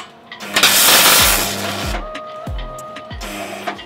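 MIG welding on alloy marine doors with the wire speed turned up high, giving a loud, rough crackling buzz of irregular bursts and pops across the whole stretch, with short pauses and restarts.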